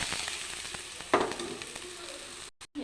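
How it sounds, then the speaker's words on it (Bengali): Onion added to hot oil with garlic in a pan for patol vorta sizzles softly and continuously, with a brief louder burst of spatter midway and a few light stirring taps before cutting out. "এবার পেঁয়াজটা দিয়ে দেবো"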